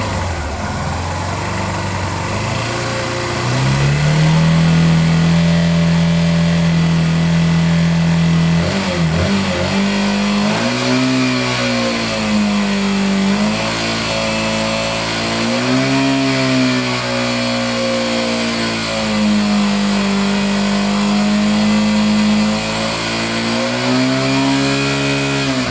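Revving of a Yamaha Factor 150 motorcycle engine suspected of an unusual engine noise, recorded close up: the engine holds at idle, then rises in repeated throttle blips and sustained revs with pitch swinging up and down, loud and alone.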